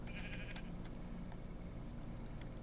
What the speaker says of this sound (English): Okay, I hear you, sheep.